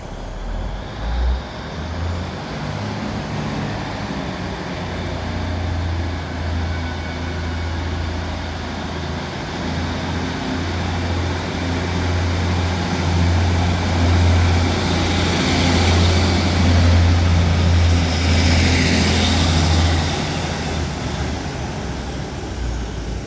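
Class 156 diesel multiple unit 156485 departing Bolton station, a steady low engine drone with a strong bass hum that builds gradually and peaks near the end as the train pulls away at close range.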